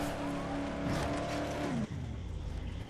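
A car driven in the video game Dead Island revs loudly with squealing, skidding tires and a steady engine drone, the pitch dropping sharply near the end as it slows, with no talk over it.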